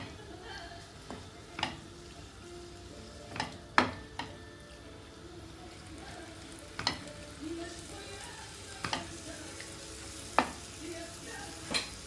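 Steady soft sizzle of oil heating in a pan before spices are added, with occasional sharp clinks of a utensil stirring against the pot.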